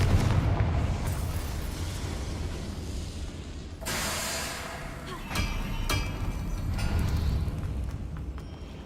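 A Confringo blasting spell goes off in Hogwarts Legacy: a loud burst and rumbling boom, with further crackling blasts and a continuous roar of combat noise throughout.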